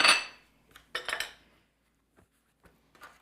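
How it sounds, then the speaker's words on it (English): A metal pastry blender cuts butter into biscuit dough for chive and cheddar biscuits in a bowl, giving a few sharp metallic clinks and scrapes in irregular bursts, close and fairly quiet, with no talk. "using my pastry blender, I'm just breaking down these pieces"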